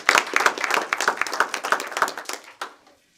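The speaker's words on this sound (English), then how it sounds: "We give her a round of applause" A short round of applause at a Richmond Community Schools board meeting, a small group clapping with distinct irregular claps that thin out and stop after a couple of seconds, with a last few stray claps.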